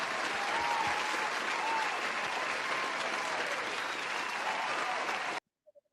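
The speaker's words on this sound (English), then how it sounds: "I have clapping sounds for this." A canned clapping sound effect, dense applause with a few cheers, plays loud and steady for about five seconds, then cuts off abruptly into near silence.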